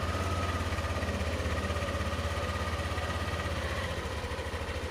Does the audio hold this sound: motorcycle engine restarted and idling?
yes